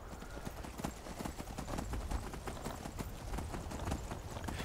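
Horse hooves clip-clopping at a steady, rapid rhythm in the video game Skyrim, clear and close with no talk over them.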